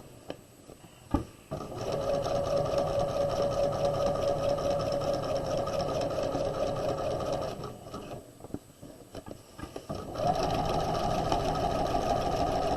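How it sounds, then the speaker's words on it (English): A sewing machine stitches down the lining of a tote bag. It runs in a steady fast whir for several seconds, pauses briefly with a few clicks, then starts stitching again, close and loud. "And then you're going to sew down."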